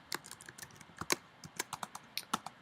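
Rapid, irregular keystrokes on a computer keyboard while a blog post is typed, crisp close clicks in uneven bursts with no talking.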